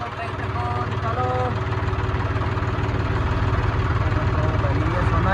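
Tractor engine running steadily as the tractor is driven out during trolley loading in a Haryana-Punjab village, a continuous loud low-mid drone with an idling-like throb throughout, while people talk over it.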